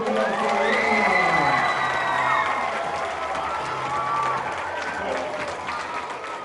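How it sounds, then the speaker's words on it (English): A school crowd applauds and cheers loudly, with whoops over steady clapping that gradually eases but keeps going throughout. "Can I get a hand clap for that?"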